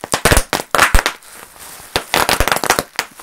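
Boxed PAL Super Nintendo game packaging being cracked open, giving a close, loud run of sharp crinkling and snapping crackles in quick irregular bursts with a brief lull midway.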